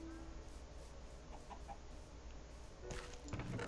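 Chickens in the Minecraft video game clucking in a few short, faint bursts over a steady game background, with a louder clutter of sounds near the end.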